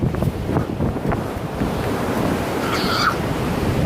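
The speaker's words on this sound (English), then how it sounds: "it is literally so windy out. You can hear the wind." Strong wind at a beach during a windstorm roars and buffets the microphone without a break, with crashing surf mixed underneath and a faint whistle near the end.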